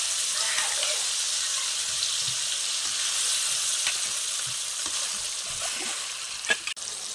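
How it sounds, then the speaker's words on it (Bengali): Small fish sizzling steadily in hot oil with green chilli for a mustard-poppy seed dish, a continuous close frying hiss with faint crackles and a sharp pop near the end. "তেলটা গরম হয়ে গেছে, মাছটা দিয়ে দিচ্ছি।"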